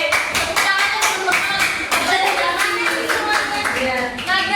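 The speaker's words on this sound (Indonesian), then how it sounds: "kasih tepuk tangan dulu" A classroom of children claps together in a burst of rapid applause, loud and close, with voices mixed in.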